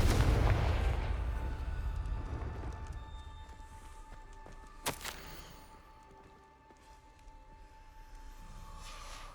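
Confringo, a fire spell in the video game Hogwarts Legacy, goes off as a loud booming blast followed by a sharp crack midway and a fading rumble under sustained game ambience.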